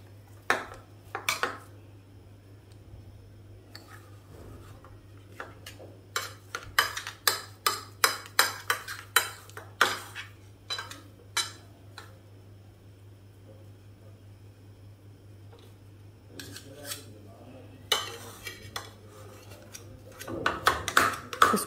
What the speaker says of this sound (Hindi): फिर उसी तरह से मैं इसको मैश करना शुरू कर दूंगी